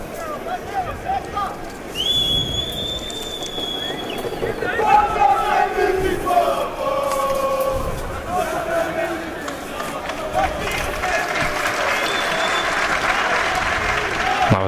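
Željezničar supporters in the north stand of the stadium cheer and chant as a loud, continuous crowd roar, with whistles and rising shouts during a football match against Velež.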